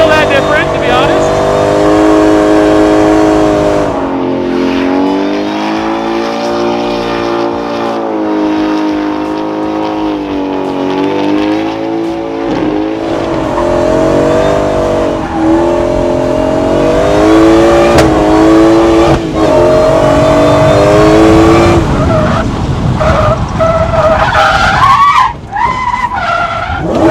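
A supercharged V8 drift truck drifts around a large road course, its engine revving loud and long as the tires skid and screech continuously, with one brief drop near the end.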